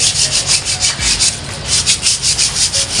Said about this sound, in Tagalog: Tapos, saka natin siya lihain.